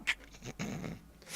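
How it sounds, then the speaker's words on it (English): Cerberus, the giant three-headed dog in the Kingdom Hearts video game, gives a close, rough growl with snorting breaths. It is loud and gravelly and runs on with no talking. "Run away from the big three-headed dog!"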